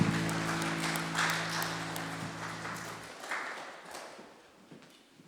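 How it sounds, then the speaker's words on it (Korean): A church congregation at a Korean Sunday worship service applauds in a broad wash of clapping, with a held organ or keyboard chord beneath for the first few seconds; the applause then continues alone and fades toward the end. "주님께 영광의 박수 올려드립니다."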